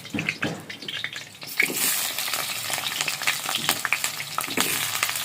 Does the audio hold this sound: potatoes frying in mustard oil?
yes